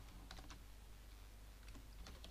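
Quick, light keystrokes on a computer keyboard as a short word is typed into a text entry field, with brief clusters of clicks and pauses over a faint, steady background hum.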